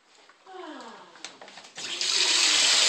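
Tap water from a faucet turned on by a Hyacinth Macaw, starting as a thin trickle and swelling into a steady, loud gushing stream, with a few bird sounds early on.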